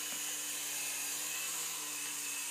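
Toy three-channel RC helicopter motor running, a steady high-pitched electric whine with a faint rotor hum, close and continuous with no talking.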